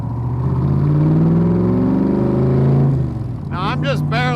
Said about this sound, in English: Now I'm just barely touching the accelerator